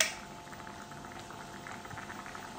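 Pork binagoongan broth boils and reduces in a pot, a steady close bubbling and simmering with small pops and no talking.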